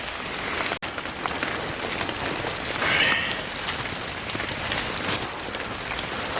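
Rain falls on an overcast day in a dark forest, a steady broadband patter of drops on leaves with a slight swell midway and no talking.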